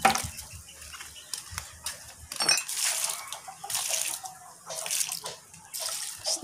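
Water runs and splashes from a tap during household cleaning, overflowing in uneven gushes and spatters that rise and fall in bursts.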